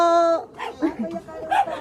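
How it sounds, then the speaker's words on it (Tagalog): Several dogs at a gathering: one gives a short bark and whine up close, followed by a few more yelps mixed with nearby voices. "Ayun, ang dami namin aso."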